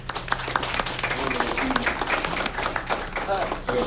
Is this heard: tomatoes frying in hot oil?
no